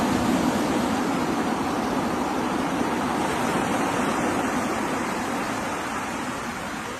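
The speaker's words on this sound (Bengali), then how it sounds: "সমুদ্রের গর্জনটা অনেক দূর অব্দি শোনা যায়" Sea waves roar in a steady, loud, unbroken wash of surf heard close by on the shore, with no voices and only a slight easing toward the end.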